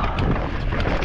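Strong wind roars and buffets the microphone in a short, loud burst of gusty noise on a mountain bike trail at Poldice Mine.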